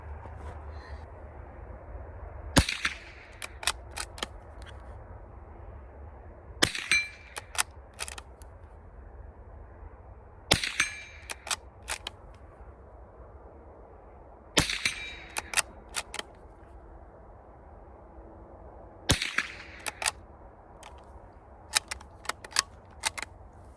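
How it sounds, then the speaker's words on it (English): An old used rifle fires single shots downrange, each a sharp crack separated by several seconds over quiet outdoor background, some shots followed by faint metallic pings. "So we're gonna send a few rounds downrange with this old kid."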